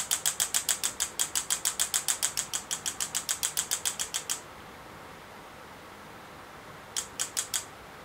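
A Super EZ Graver Mk2 engraving handpiece runs at minimum power, giving a rapid run of evenly spaced tapping pulses that stops, then returns as a short burst of a few taps over a steady low hiss.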